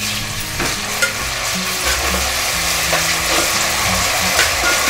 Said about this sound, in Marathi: 2 ते 3 मिनिट आपण व्यवस्थित फ्राय करून घ्यायचं आहे आलं लसूण पेस्ट